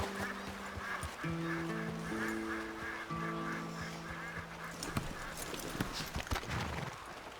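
Horse hooves clopping in an uneven walking rhythm, with honking goose-like calls and a tonal musical backdrop, all fairly faint.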